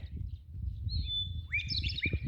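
Songbirds chirp and whistle outdoors on a clear morning in a small Oregon town, a few bright calls rising over steady low background rumble, fairly close and moderately loud.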